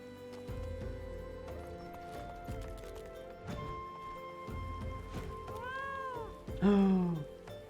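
A cat-like mount in Final Fantasy XIV lets out a clear, bright meow near the end, rising above the steady game music and ambience with no talk over it.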